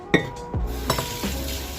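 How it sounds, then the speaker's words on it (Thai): Spoons and plates being washed in a home kitchen, a few scattered clinks and knocks of metal against dishware, close and fairly quiet. "ใช่ครับเราก็จะมาล้างจานนะครับ"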